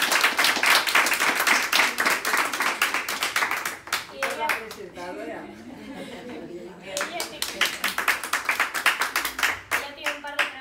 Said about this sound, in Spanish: Yo voy a pedir un aplauso para Paula.